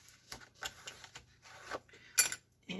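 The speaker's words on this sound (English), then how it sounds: "Burnish it in." Paper is burnished onto a lapbook with soft, uneven rubbing and scraping strokes in quick, irregular bursts, faint and close, ending in a sharper scrape.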